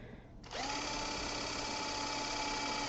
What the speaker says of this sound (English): I'm using my drill to do this.